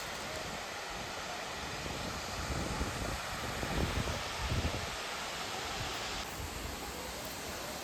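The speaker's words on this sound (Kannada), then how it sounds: "ಕುಪ್ಪಂ ಹತ್ರ ಇರೋ ಒಂದು ಫಾಲ್ಸ್ ಬಂದಿದ್ದೀವಿ" Waterfall near Kuppam, a steady broadband roar of falling water that fills the whole stretch evenly, loud and continuous with no voices.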